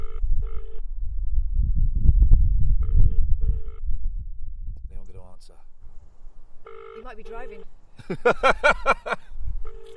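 Telephone ringing tones in short repeated bursts, heard alongside people talking and other phone beeps.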